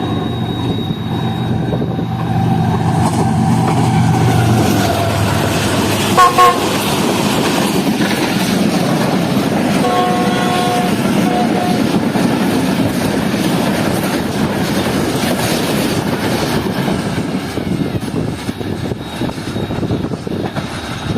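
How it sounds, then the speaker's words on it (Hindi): The Hazara Express, a Pakistani passenger train, rushes past at high speed near Jhangshahi railway station, a loud, sustained roar of wagons and wheels with brief horn toots and faint wheel squeal, close throughout. "11 हज़ारा एक्सप्रेस काफ़ी अच्छी स्पीड में"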